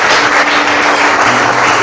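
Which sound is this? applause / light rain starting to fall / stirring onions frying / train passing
applause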